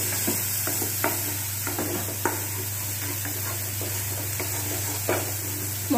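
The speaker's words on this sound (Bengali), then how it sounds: "মশলাগুলো এবার কষানো হয়ে যাচ্ছে।" Spices with ginger sizzle in a pan while being stirred, with soft frying hiss and intermittent scrapes over a low steady hum, and no voices.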